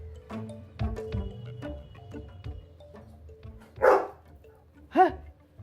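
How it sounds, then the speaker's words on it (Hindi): A dog in a home barks twice in quick bursts near the end, after a stretch of background music and household sounds, loud and close. "है ये क्या? कुत्ता?"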